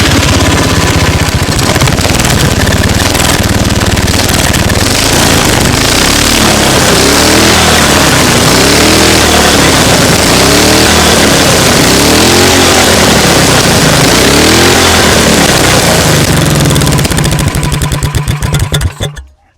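A small engine fitted with a rebuilt carburetor fires up and runs loud and steady for nearly twenty seconds, its note rising and falling in rhythmic waves before cutting off abruptly at the end.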